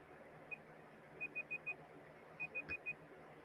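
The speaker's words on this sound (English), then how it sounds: "right, timer's about to run out." A timer alarm beeping faintly: a single beep, then a run of four evenly spaced beeps, a pause, and another four, over a quiet room hum.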